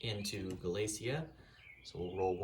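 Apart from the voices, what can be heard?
No everyday noise stands out behind the speech.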